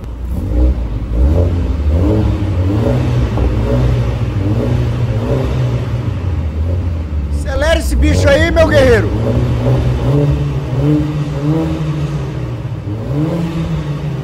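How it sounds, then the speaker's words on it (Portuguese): A car engine revved from inside the cabin, running in race mode. A steady, loud engine drone rises and falls, with a burst of crackling pops midway, while people talk over it. "vou tentar dar uma aceleradinha aqui dentro"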